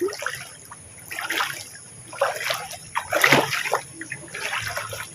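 Flood water overflowing from a river splashes and sloshes in irregular bursts during heavy rain, with a steady trickling flow underneath and a high constant hiss in the background.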